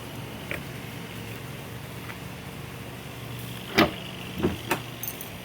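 A 2005 Ford Expedition opening and closing by remote, heard as a low motor hum with a few distinct clunks and latch clicks near the end, fairly close, with no speech.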